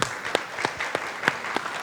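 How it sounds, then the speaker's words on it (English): Scattered applause from an audience at a corporate strategy launch event in Jakarta, with a few distinct claps spaced out over under two seconds, fairly sparse and moderately near. "So maybe we can just give them a bit of applause."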